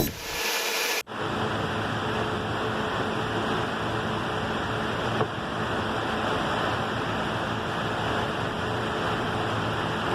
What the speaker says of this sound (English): Little sanding clip so you can see how I do it. Air power, baby.